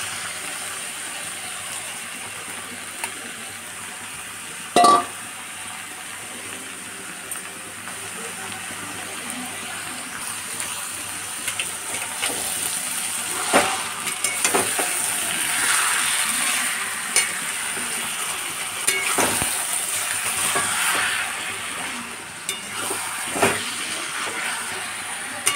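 Chicken sizzling in a pan with browned onion, garlic and ginger for a chicken kosha, a steady hiss and crackle throughout with occasional utensil clinks and stirring scrapes, moderately close.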